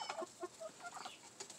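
Backyard homestead chickens, including a Cochin, cluck softly in a few short, scattered calls, faint and somewhat distant, with no talking over them.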